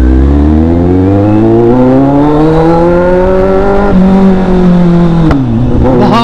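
A superbike engine revs hard and close, its loud droning pitch climbing steadily, then dipping and catching with a sharp crackling pop near the end.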